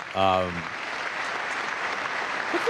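Applause from the crowd at the State of the Union fills the room in a sustained, steady clatter of many hands. A brief voice is heard at the start, and the clapping then continues alone at moderate loudness.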